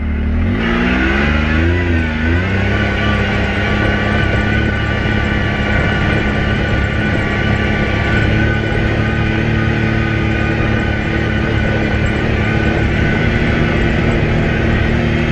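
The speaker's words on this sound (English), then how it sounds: "Going over a lot of these rough, chattery, rocky bumps." A 2023 Can-Am Maverick X3 DS side-by-side drives a rough, chattery rocky trail, its engine droning loud and steady with a rising rev near the start and constant rumbling over the bumps.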